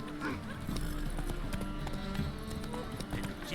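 Roach, Geralt's horse in The Witcher 3, trots along with a steady clip-clop of hooves at close range while someone talks over it.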